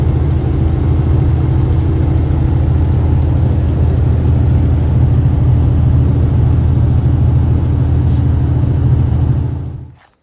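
Steady low engine drone from a loaded semi truck cruising along busy Interstate 80, heard from inside the cab, loud and constant with a rumbling hum, no talk, ending abruptly.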